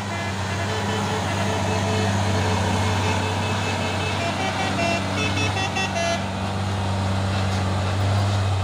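A heavy Hino 500 trailer truck carrying a tanker truck rumbles steadily past at close range, its low engine drone dominating, with a brief horn toot partway through and traffic noise around.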